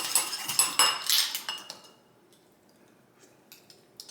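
A metal tasting spoon clinks and scrapes against dishes in a kitchen while a salad dressing is made, giving a quick burst of bright, close clatter, then quiet and a few faint clicks near the end.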